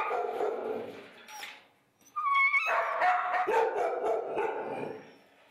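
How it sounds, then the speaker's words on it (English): Shelter dogs bark and yip in bursts, loud and close, with a brief pause before a livelier run of barking and whimpering, no voices over it. "or little guys like Marv, Lewis, and Molson, who will tell you themselves they're ready for a loving home this holiday season"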